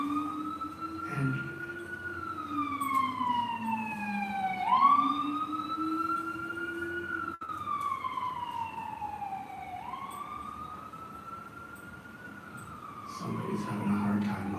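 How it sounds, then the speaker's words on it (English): Emergency vehicle sirens wail outside, rising and falling in slow sweeps over about fifteen seconds as they pass, loud at first and then fading, with a low traffic rumble beneath. "That's why sirens are running."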